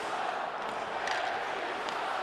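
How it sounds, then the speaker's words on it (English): A hockey arena crowd at an NHL game between the Detroit Red Wings and Colorado Avalanche roars as a player is hit, a steady, dense wash of noise that stays loud and unbroken throughout. "Crowd here reacting to Eric Johnson's getting hit"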